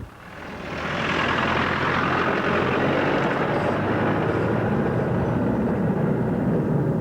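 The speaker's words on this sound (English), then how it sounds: "Take off in second gear, please. Nice smooth application of clutch and throttle." A car moving off in second gear with a smooth clutch and throttle, its engine note swelling after the first second into a loud, steady drone that holds to the end, with no talk over it.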